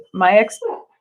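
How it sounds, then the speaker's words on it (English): A pet dog gives a short yapping bark followed by a second, softer yelp, close to the microphone in a quiet home setting during an online drawing lesson. "that's my dog."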